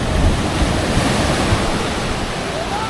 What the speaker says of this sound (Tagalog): Ito, sobrang lakas ng alon.